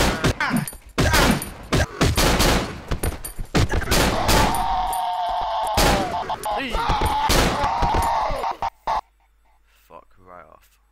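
Gunfire in the video game Cry of Fear, a rapid burst of loud close shots in quick succession, dense and punchy for several seconds before cutting off abruptly into near silence.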